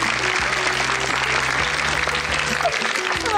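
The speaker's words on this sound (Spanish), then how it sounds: "con un fuerte aplauso del público" A studio audience at a comedic Miss Peru pageant show applauds loudly and steadily throughout, with a low musical tone underneath.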